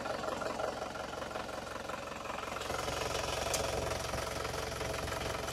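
An Isuzu Panther diesel engine from a 2016 Panther Grand Touring idles with its oil filler cap removed, a steady, close, rhythmic mechanical clatter with a crisp knock running evenly throughout, with no talking.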